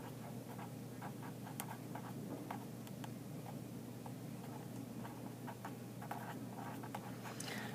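Faint scratching and tapping of writing on a board during a lecture on the universe, in a quiet room without talk.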